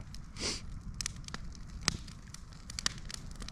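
Quiet campfire in the mountains crackles with scattered sharp pops and snaps over a soft low hiss, outdoors beside a truck, with no voices.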